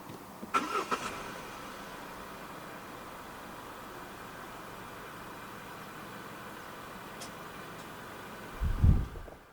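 A quiet click or two at the start, a long stretch of low steady hum, then a 2025 Omoda C9 2.0 turbo engine turns over by push-button start and catches near the end.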